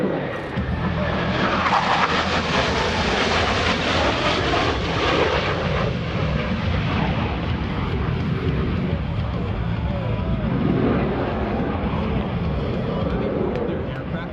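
US Navy Blue Angels jets roaring past behind the spectator area at about 400 mph during the 2017 New York Air Show, a loud, sustained broadband jet roar lasting the whole stretch.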